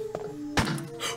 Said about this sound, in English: Oh, and we get a cutscene of a gunshot.